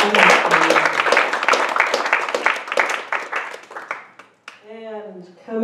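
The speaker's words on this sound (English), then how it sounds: "Let's just give her such a big round of applause." An audience claps at a sailing club talk about building a tall ship, a burst of loud, close applause with sharp individual claps that thins out before a speaker's voice returns.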